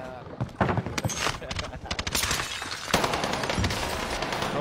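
Rapid bursts of video-game gunfire crackle in a Rebirth or Fortunes match during a live stream, close and repeated, mixed under excited voices talking.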